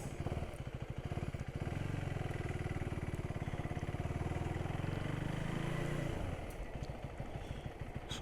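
Single-cylinder Husqvarna Svartpilen 401 motorcycle, a 2024 A2-compliant roadster, riding with a steady, loud, close thumping engine note that rises in pitch, then eases off near the end.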